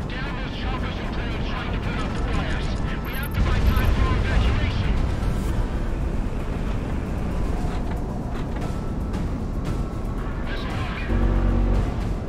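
Dense, continuous rumbling blasts and booming explosions from the flight combat video game Project Wingman, loud and unbroken throughout with heavier bursts partway through.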